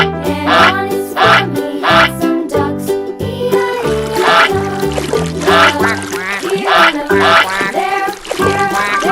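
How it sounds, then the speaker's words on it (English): A cartoon goose honks in loud, repeated nasal bursts over a busy, bright musical backing, with no speech. "Goose."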